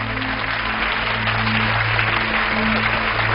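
A television studio audience applauds steadily at a host's request, a dense, continuous clapping that holds at an even level throughout, with a faint low hum beneath.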